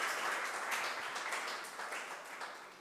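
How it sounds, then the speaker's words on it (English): A conference audience applauds a speaker at a masterclass session, a dense wash of many hands clapping together that holds steady and slowly tapers off. "Big round of applause for David."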